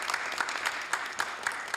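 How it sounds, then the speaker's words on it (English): Applause from an audience at a council meeting, with steady broadband clapping and regularly spaced sharper bursts across a short stretch, moderately loud throughout. "let's give Spectrum and Meals on Wheels another big round of applause"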